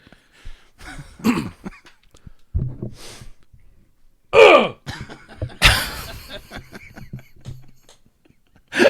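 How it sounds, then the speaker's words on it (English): A man clears his throat after vocal warm-ups, with a few rough, breathy bursts spread over several seconds in a quiet room and no speech. "After my vocal warm-ups, I had to clear my throat"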